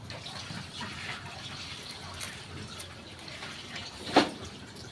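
Tap water runs steadily into a kitchen sink as a soft, continuous wash, broken by one brief louder splash near the end.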